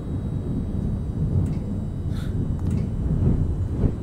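Thunderstorm in the video game The Backrooms: a continuous low rumbling of thunder with steady rain-like hiss, rolling and fairly loud throughout, with a few faint higher ticks scattered across.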